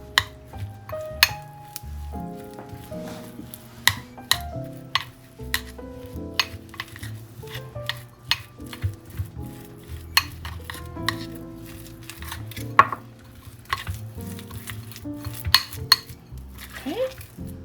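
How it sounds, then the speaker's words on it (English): Fresh parsley being mixed into butter in a bowl, with a utensil clinking and scraping against the dish in a steady run of sharp taps and soft stirring, close and moderately loud, no talking. "Going to mix all of that around into our butter."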